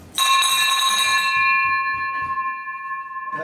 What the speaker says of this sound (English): Hand me that bell right there.